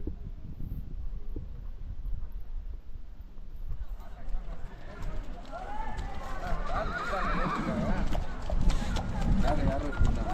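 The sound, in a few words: horses neighing and hooves clip-clopping on trek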